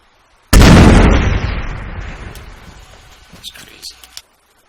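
A thrown incendiary bursts against a house wall in a military combat video game, a sudden loud blast followed by a long roaring, crackling fire that slowly fades, with a few sharp pops near the end.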